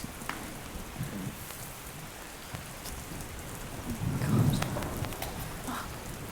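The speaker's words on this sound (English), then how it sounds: "it's something of a storm" Steady rain pours through a stormy night, with a deeper rumble of thunder swelling briefly near the middle; no voices, just the continuous wash of rainfall.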